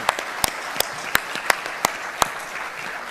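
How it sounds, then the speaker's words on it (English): An audience applauds the panel members at a military conference on the Pacific, with sharp individual claps standing out rhythmically over a steady wash of clapping. "A round of applause."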